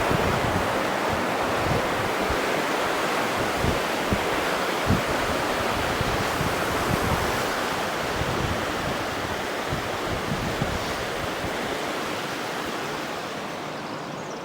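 A river flowing right beside a campsite in Tasmania, heard as a steady, full rushing wash of water that holds constant and close for the whole stretch, slightly easing toward the end, with no voices.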